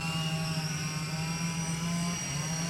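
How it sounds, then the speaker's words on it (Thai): A small RC CH-47 Chinook model helicopter flies nearby, giving off a continuous, even electric motor whine with a low drone beneath it that holds steady throughout, with no talking. "เนี่ยทดสอบบินยาวนะนี่ครับสวยจริงๆ ครับคุณผู้ชมครับกับชีนุกครับ"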